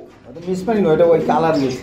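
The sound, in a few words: pigeon cooing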